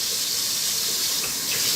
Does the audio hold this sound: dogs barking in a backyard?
no